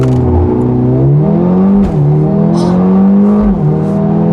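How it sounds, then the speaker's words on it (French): A Mercedes A35 AMG accelerates at full throttle from inside the cabin, its engine note climbing loudly with quick upshifts and brief dips between gears. "Accélère à fond."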